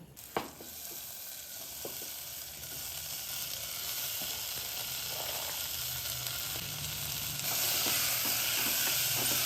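Potatoes and peas with spices fry in a pressure cooker, giving a steady close sizzle with a few sharp clinks of stirring near the start and a hiss that grows a little louder toward the end; no one speaks.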